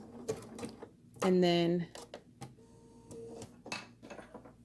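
A sewing machine stitches an appliqué petal in a short, steady burst lasting about half a second, close by. Someone talks before and after it, and small handling clicks sound around it.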